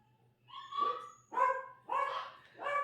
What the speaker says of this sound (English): sounds like the dogs are gearing up to go on a walk